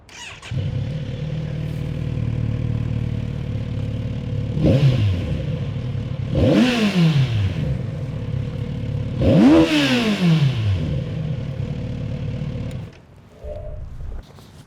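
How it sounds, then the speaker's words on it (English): A 2018 Kawasaki Z900 RS motorcycle engine idles steadily, then is blipped through three sharp revs that rise and fall quickly, heard up close and alone before the engine cuts and a brief low rumble follows. "this bike has no business sounding that good"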